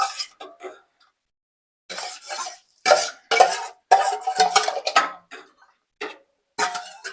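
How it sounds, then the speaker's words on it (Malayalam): Washed raw white rice goes into hot water in a cooking pot for masala rice, with close, intermittent clinks, scrapes and rustling bursts separated by short silences. "ഇത് അരി ഞാൻ നൈസായിട്ട് വാഷ് ചെയ്തു ഇപ്പൊ നമുക്ക് ഇത് ചൂടുവെള്ളത്തിലേക്ക് ഇടാം"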